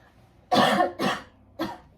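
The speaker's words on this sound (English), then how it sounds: "I'm sorry, I have to cough." Three sharp coughs in quick succession, close and fairly loud, the last one shorter.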